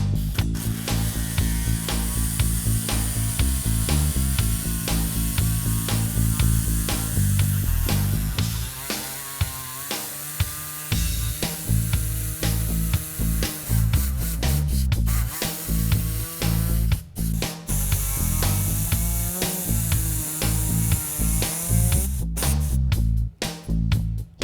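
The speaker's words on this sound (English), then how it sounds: "before I fire up the saw and you can't hear anything" Power saw cutting through wood in a home workshop build, a loud continuous whining drone with a steady motor tone that shifts in pitch as the blade bites and eases, briefly dipping before the cut resumes, no talk.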